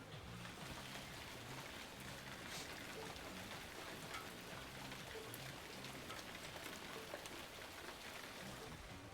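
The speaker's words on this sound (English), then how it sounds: "Do you want to hear more rain?" Steady rain patters continuously on a surface, a dense even hiss of drops with no pauses, fairly soft and close.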